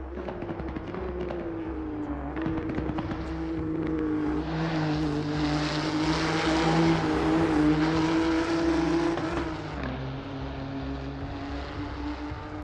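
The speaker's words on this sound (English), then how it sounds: "Let me introduce you to the Nissan GTR Nismo GT3 racing car." A Nissan GTR Nismo GT3 racing car drives past with a loud, sustained engine roar that rises and swells toward the middle and then eases off, with no voices over it.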